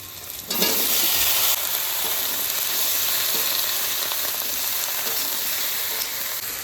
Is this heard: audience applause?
no